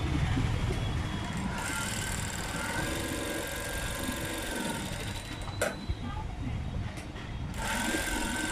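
A sewing machine stitches along the edges of a blouse lining, a continuous close mechanical whirr with small clicks near the end, and someone speaking over it.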